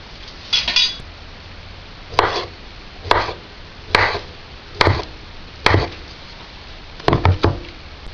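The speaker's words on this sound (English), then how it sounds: "I'm just going to chop it real quick." A knife chops half an avocado on a cutting board in a raw-food kitchen: about eight crisp, close knocks in an uneven rhythm, a few quick pairs and a triple near the end, with quiet pauses between and no talking.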